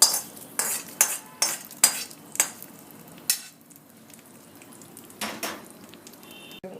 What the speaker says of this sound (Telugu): ఈ వేడివేడి పోపు దీంట్లో వేయడం వలన